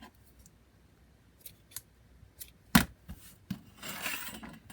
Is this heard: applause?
no